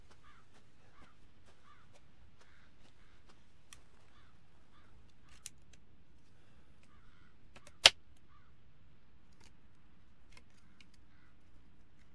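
Crows cawing in the eerie outdoor setting of the Resident Evil 7 horror game, faint scattered caws over low ambient rumble, with a single sharp loud click or snap partway through.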